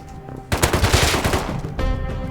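Rapid bursts of AK rifle fire from the survival video game Rust, a loud, dense automatic volley starting after a brief quiet moment and continuing with another burst near the end.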